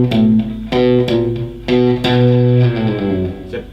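A distorted electric guitar plays the extra ending lick from a song with alternate picking, short punchy note bursts and accented hits, up close and loud with no talking.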